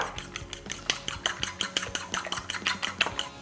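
Eggs whisked in a bowl for almond flour pancakes, a quick steady clicking of utensil against the bowl, about four strokes per second, close and fairly loud with no talking.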